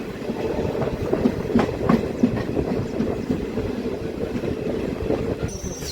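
A DEMU local train rumbles at a small station platform, its steady clickety-clack and wheel noise running continuously with faint squeals, fairly close and without voices.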